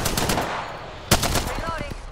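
Automatic weapon fire in Apex Legends comes as a dense burst with a sharp loud crack near the middle, followed by a short rapid string of distinct shots near the end, close and punchy amid game noise.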